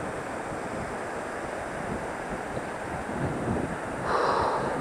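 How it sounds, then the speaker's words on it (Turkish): Rushing water of the river below Kaname Waterfall in Hitoyoshi, Kyushu: a continuous broadband roar from nearby, steady throughout with slight wind noise on the microphone and a brief brighter swell near the end. "yani Kaname Şelalesi'nin devamı. Solunuzda belki sesin duyuyorsunuzdur."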